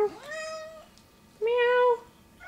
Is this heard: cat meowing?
yes